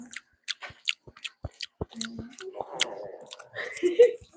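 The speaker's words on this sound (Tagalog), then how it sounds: "Parinig mo yung kagat mo." Someone bites and chews food close to the microphone, giving sharp crunchy clicks and crackles in an irregular rhythm, with brief voices and murmurs mixed in toward the end.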